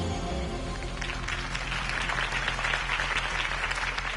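Sustained crowd applause and cheering in a Batman video game, dense and steady throughout, with a low hum underneath.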